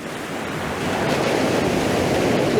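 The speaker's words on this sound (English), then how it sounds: "just watching the water come in." Ocean waves roll in and wash up onto a shoreline at a landscape photography spot, a steady broadband surf roar that builds slightly and stays loud and close, with some wind noise and no voices.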